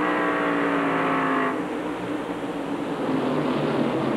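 Modified race cars at New Hampshire roar past loudly and continuously, with a high engine tone that shifts into broader rushing noise as a car goes by.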